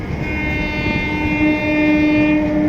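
A Chennai Express train passing and overtaking on the Varanasi to Pandit Deen Dayal Upadhyaya line, a steady loud rumble of rolling wagons with a sustained horn-like tone running throughout, no voices.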